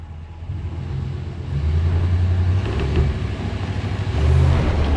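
A RAM 1500 Hemi pickup truck in four-wheel-drive lock strains to pull heavy logs, its engine rumbling low and steady, then swelling louder and deeper as it takes the load, close by.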